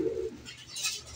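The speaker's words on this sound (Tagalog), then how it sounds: "Check natin mga kalapatids." Racing pigeons give a soft, brief coo followed by a couple of faint throaty notes. The sound is low in level and quite close, with no talking.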